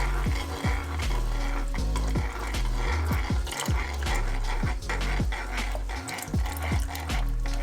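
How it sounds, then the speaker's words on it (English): Potato starch slurry stirred into a thickening sauce on reduced heat: steady scraping and clinking of a utensil against the pan in a continuous rhythm over a low sizzle, with no voices. "slowly add the slurry, stirring the sauce"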